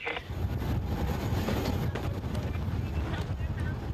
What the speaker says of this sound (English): Without trying to sound too technical, it's bloody windy.